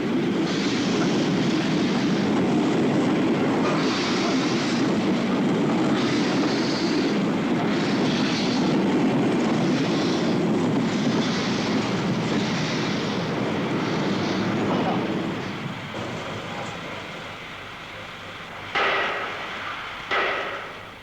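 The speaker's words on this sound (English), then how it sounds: "And a works train moves up too." A heavy railway works train rumbles steadily along the line at close range, a loud continuous roar that eases off toward the end with a few brief clanks.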